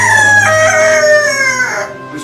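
Rooster crowing loudly and close in a long drawn-out call with a clear falling pitch, fading slightly at the end, with no talk over it.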